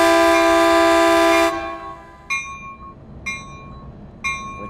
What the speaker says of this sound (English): Exterior horn action.